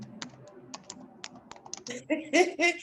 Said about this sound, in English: I hear her typing.